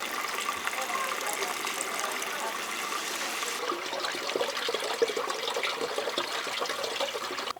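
Water poured from a jug into a van's water tank, a steady gurgling rush that stays even for several seconds, with a voice speaking faintly underneath.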